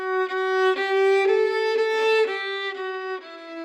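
Solo violin plays a short, smooth melodic phrase up close with a warm, sustained singing tone, the notes connected by gentle bow changes.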